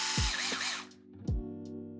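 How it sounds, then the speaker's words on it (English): A 2mm hex driver on a power tool spinning a screw into an RC car's 4X4 transmission setup, with two short whirring bursts that rise and fall in pitch amid a close mechanical buzz, no voices. "Switching back to the 2mm hex driver for this operation."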